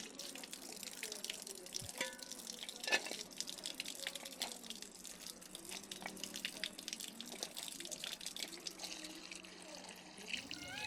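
Tap water runs steadily while tender young vegetables are washed, a faint continuous splashing rush with no talking.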